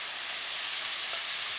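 Caponata relish in a pan with vinegar and caster sugar being stirred in, a soft continuous sizzle and hiss, close and fairly quiet, steady over a brief moment with no talk.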